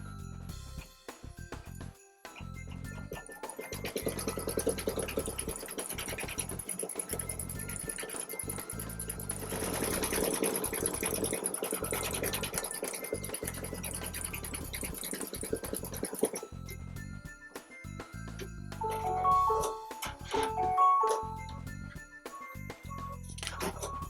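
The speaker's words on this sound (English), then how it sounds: "It's going to be the sewing machine. Let's go ahead and sew that." A sewing machine in embroidery mode stitches an applique onto a coaster held in a hoop, with a steady, continuous mechanical whir and fine rhythmic stitching pulses at close range throughout, no talking.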